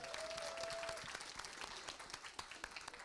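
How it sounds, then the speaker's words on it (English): An audience at a sustainable culture trainer workshop claps in sustained applause, a dense wash of many hands that stays steady and fairly loud throughout before thinning slightly toward the end. "Please applaud for yourself"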